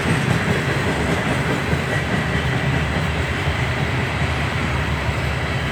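A Norfolk Southern southbound empty coal train rolls past steadily, a broad continuous rumble of wheels and cars with faint clickety-clack, loud and close, with no talking.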